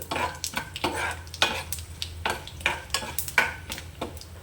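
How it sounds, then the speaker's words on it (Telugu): Tempering spices fry in hot oil, a bright sizzle broken by repeated stirring strokes of a spoon against the pan, close and loud with no talking. "తాలింపు వేగింది"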